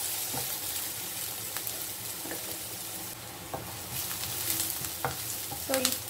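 Curry leaves and a green chili sautéing in a pan, giving a steady close sizzle broken by occasional scrapes and clicks of a stirring utensil, with no voices.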